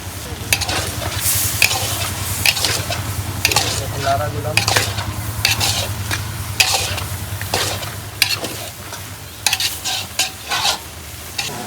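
Duck meat frying in a pan with ginger garlic paste, stirred steadily with a metal utensil, giving a loud continuous sizzle broken by repeated scraping clanks, close and with no talking.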